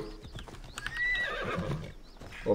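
A horse in Assassin's Creed Odyssey gives a loud, close whinny with a clatter of hooves around it, ending in a short snort or second call.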